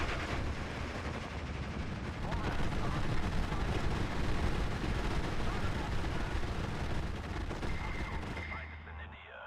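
Heavy artillery and gunfire in the World War II strategy game Steel Division 2, a dense continuous barrage of booming blasts and rattling shots that stays loud throughout before cutting off near the end.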